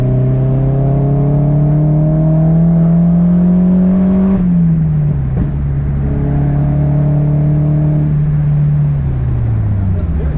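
A healthy car engine running at a steady drone while driving, loud and close, with the pitch dipping slightly midway and again near the end as the revs settle.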